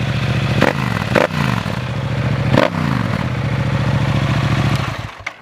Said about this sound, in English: Let's rev it up, see what it sounds like.